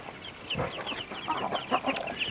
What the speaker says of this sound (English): We've moved the Kabir chicks down here into the broiler coop.